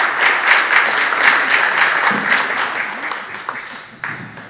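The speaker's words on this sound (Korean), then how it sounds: "박수를 맞아주시기 바랍니다." Steady audience applause at a formal ceremony in Sejong, Korea, a dense wash of many hands clapping that thins out over a few seconds toward the end.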